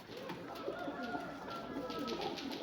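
Pet pigeons cooing nearby, soft repeated rolling calls that overlap in a continuous low murmur against a faint background hum.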